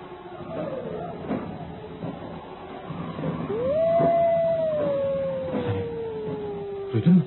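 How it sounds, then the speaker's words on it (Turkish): Wolves howling in a Turkish radio drama: a long rising then slowly falling howl carries across several seconds, with softer yips and whimpers before it, set against a faint ambient bed. "Duydun mu? Duydun mu? Kurtlar yine başladı."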